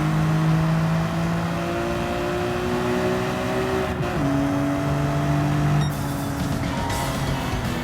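Race car in Gran Turismo 7 during a national A licence test, engine whining and revving up through gears with a shift drop midway, steady and loud, a faint scrape near the end.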